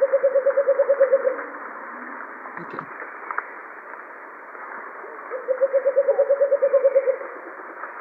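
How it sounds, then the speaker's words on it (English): A bleeding heart dove's call played back over a narrow, radio-like line: two bursts of rapid, evenly pulsed low notes separated by a few seconds of hiss, with a brief spoken word in between. "So I'm gonna play the call of a bleeding heart"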